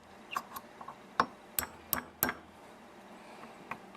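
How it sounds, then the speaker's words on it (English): Pins are hammered into an AR15 upper receiver, giving about half a dozen sharp, light metallic taps at uneven intervals. The taps sound fairly faint and close against a quiet room. "So we're just going to hammer these in."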